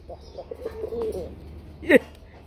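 A Lahori-size Raj Golla pigeon coos close by, with a low soft murmur followed by a louder, brief coo near the end.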